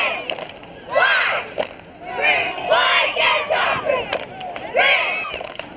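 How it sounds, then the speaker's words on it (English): A high school cheerleading squad performs a chant at a Friday night football broadcast, shouting loud rhythmic phrases in unison with sharp claps and stomps between bursts, the voices rising and falling in repeated waves. "Cheer team of the week."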